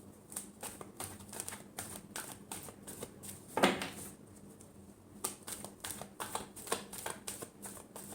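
Tarot cards are shuffled in quick, crisp riffles and taps that come in short bursts, with one louder flurry partway through; the sound is close but quiet, and no one speaks.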